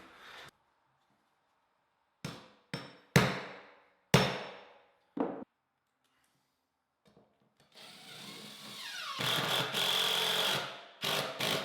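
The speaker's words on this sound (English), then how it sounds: "I'm gonna just use my nail set and dimple the steel" A hammer strikes a steel nail set several times to dimple a steel floor plate, five sharp close metallic taps in an uneven rhythm, followed by a longer rasping scrape and a final knock.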